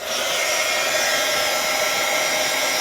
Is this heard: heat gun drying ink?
yes